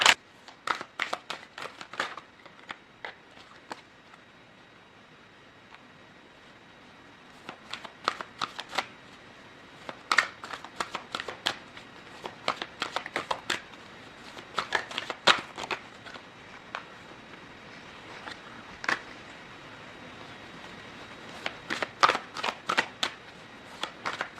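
A tarot deck is shuffled and handled for a long stretch, giving close, papery riffles, flicks and soft slaps in uneven clusters with quiet gaps between them.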